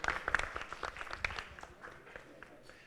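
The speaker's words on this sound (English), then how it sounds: "Give a big clap to the teachers of tomorrow." An audience at a teachers' conference session claps briefly, with scattered, moderately close hand claps that thin out and fade over a few seconds.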